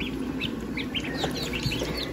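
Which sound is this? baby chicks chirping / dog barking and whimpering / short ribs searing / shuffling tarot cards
baby chicks chirping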